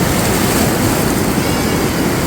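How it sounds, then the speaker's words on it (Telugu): Heavy water flow of the Alaknanda river roars as a loud, continuous broadband rush, close and unbroken, with no voices over it. "సౌండ్ విన్నారు కదా, అది వాటర్ ఫ్లో సౌండ్ అంత హెవీగా ఉంది."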